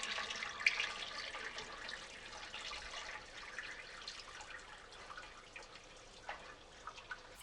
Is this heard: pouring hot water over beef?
yes